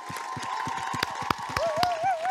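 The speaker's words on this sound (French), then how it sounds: "Nous allons vous applaudir. Bravo Jean-Pierre." Studio audience applauding Jean-Pierre Pernaut at his final TV news broadcast: dense clapping with cheers, a sustained whistle and a rising shout over the middle, steady and close.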